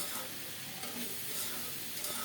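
Broad beans frying in a pan for a Bengali fish-head muri ghonto meal, giving a steady, soft sizzle with faint stirring scrapes, close and continuous with no talking.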